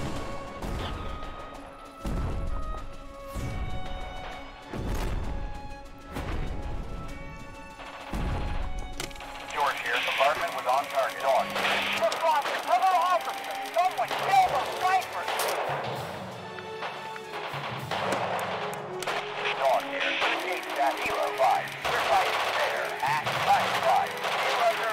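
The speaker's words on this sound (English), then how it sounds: "George here, artillery firing at Lima 6." Artillery barrage in the WWII strategy game Radio General: a run of heavy booming impacts at a steady rhythm, followed by distant crashes and rumbling under game ambience and radio chatter.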